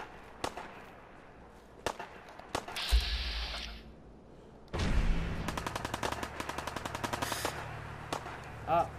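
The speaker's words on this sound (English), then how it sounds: "Here's some gunfire." Gunfire in a shooter video game: a couple of isolated sharp shots, then a loud burst and a long rapid string of automatic fire with evenly spaced cracks, ending in one last blast.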